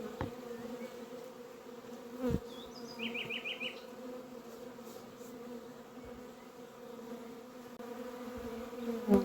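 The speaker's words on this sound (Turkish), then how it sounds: "iki gün üst üste yavru uçurmasına denk geldim galiba" Honeybees swarm out of a hive on a rainy spring day, a dense, steady droning hum of many wings close by, with brief higher buzzes from single bees passing near and no talking.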